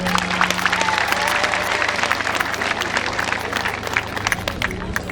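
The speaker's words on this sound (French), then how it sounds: "je demande à tous les participants à applaudir fortement son Excellence l'Ombudsman de la République du Burundi" Audience applause at a Burundian official ceremony honouring the Ombudsman of the Republic of Burundi: dense, steady clapping from a crowd with some murmur, continuing evenly throughout.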